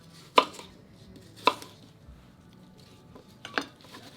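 A knife cuts butternut squash into smaller pieces on a board, three sharp, distinct chops spaced about a second or two apart over quiet kitchen room tone.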